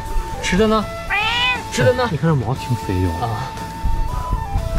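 A plump, food-begging stray cat on the Mount Hua hiking trail lets out several loud, drawn-out, complaining meows up close, with people talking and questioning it in between.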